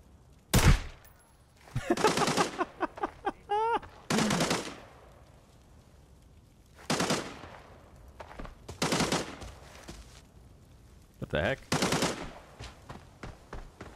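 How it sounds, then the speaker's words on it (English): Automatic rifle bursts and single gunshots from an Arena Breakout firefight, with an AK-74 in play, crack out in sharp repeated volleys, some near and loud and others more distant, separated by short quiet gaps. "They're shooting at me?"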